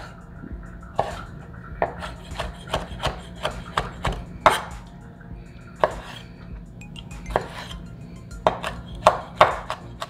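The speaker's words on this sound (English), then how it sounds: "Start by chopping the tomatoes." A knife chops fresh tomatoes on a cutting board for pico de gallo, a brisk, irregular series of sharp close taps with small pauses between bursts.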